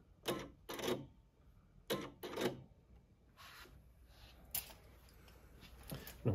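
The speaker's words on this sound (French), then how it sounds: "le couteau s'ouvre et se referme" A Brother PR embroidery machine's thread trimmer knife snaps open and shut, making a series of short, sharp mechanical clacks, some in quick pairs, separated by quiet pauses.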